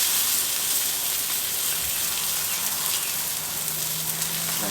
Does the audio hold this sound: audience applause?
no